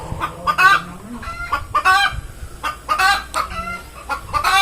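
Chickens cluck repeatedly at close range in a rural farmyard, the rhythmic bursts of hen clucking mixed with other fowl calls and some background noise.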